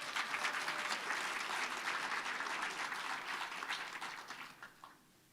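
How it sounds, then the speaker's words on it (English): A lecture-hall audience at a university public lecture claps together, a full, dense burst of applause that stays loud and even before tapering off at the end, with no talking over it. "Aye, let's clap for this one."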